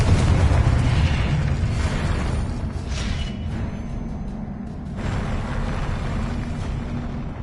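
Spells such as Confringo, Incendio and Depulso are cast in Hogwarts Legacy on PS5. They produce a dense run of rumbling magical blasts and booms that overlap continuously, loud and close, with no talking.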